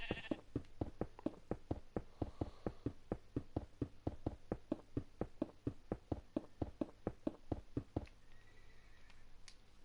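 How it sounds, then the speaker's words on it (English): Rhythmic, evenly spaced bleats from a sheep in a blocky superflat building game, around two per second for about eight seconds, fairly close and clear, then stopping and leaving a faint ambient hum. "Sorry, Mr. Sheep."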